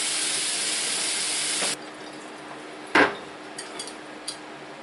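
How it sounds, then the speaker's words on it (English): Hot water streams from a kitchen tap over a waxed rutabaga for about 1.7 seconds, a steady loud hiss that cuts off abruptly, followed by a sharp knock and a few light clinks of handling at the sink. "Got to use hot water on the rutabaga because they use wax on the outside to keep it fresh."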